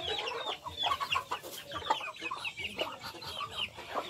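Chickens at a farm cluck repeatedly in short, irregular bursts, close by and moderately loud, with overlapping calls and no one talking.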